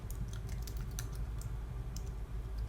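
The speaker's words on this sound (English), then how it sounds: "And I'll just type in Alaska to get it down a little more." Rapid typing on a computer keyboard, a steady run of close, light key clicks over a low background hum, with no voice.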